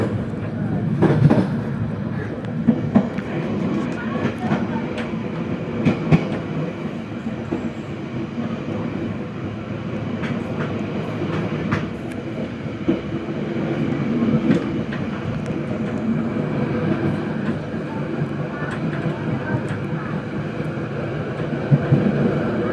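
A train departing Kiaracondong station from track 6 rumbles steadily with rolling wheel noise and occasional clicks and squeaks, continuous and fairly near for the whole stretch.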